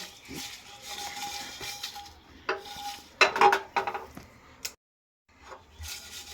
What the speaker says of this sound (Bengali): দিয়ে দিচ্ছি শুকনো লঙ্কা। এবার এটা শুকনো কড়াইয়ে আমি ভেজে নিচ্ছি।